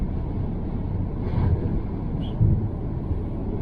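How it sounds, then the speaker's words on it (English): Cabin of a Jaguar XJ L 2.7D X358 diesel while driving on a very windy day: a steady, quiet low road-and-engine rumble with occasional swelling wind gusts pressing against the body, no talking. "It's an incredibly windy day, so some gusting sounds. But very quiet in"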